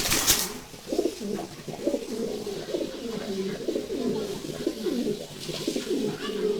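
Caged pigeons coo in soft, throaty, overlapping rolls close by, a steady murmuring chorus with a brief rustle at the start and another near the end.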